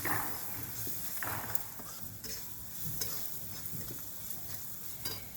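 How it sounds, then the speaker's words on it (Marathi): Ambari masala, salt, onion and garlic stirred together in a frying pan, a quiet continuous sizzle broken by soft scraping strokes of a spoon at an irregular pace, close by. "आता घेऊ सगळं मिक्स करू"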